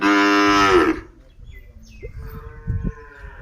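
A young Hallikar bull calf, about ten months old, moos once, loud and close, followed by quieter shuffling and rustling noises.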